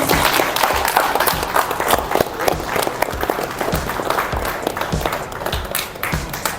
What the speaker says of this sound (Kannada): ಚಪ್ಪಾಳೆ ಚಪ್ಪಾಳೆ ಚಪ್ಪಾಳೆ.